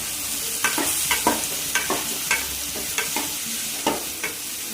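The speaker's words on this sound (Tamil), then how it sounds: "கத்திரிக்காயை ஆட் பண்ணி நல்லா வதக்கி எடுத்துக்கிட்டோம்னா குழம்பு நல்லா டேஸ்ட்டாக இருக்கும்" Brinjal (eggplant) sautéing in a pan for a fish curry: a constant sizzle broken by regular scraping stirs of a spoon, about two per second, close and loud with no talk.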